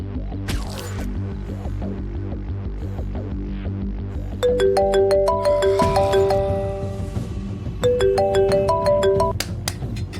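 A phone rings on without being answered, a repeating electronic ringtone of stacked chiming tones that starts midway and returns in a second burst over a steady low throb of background hum.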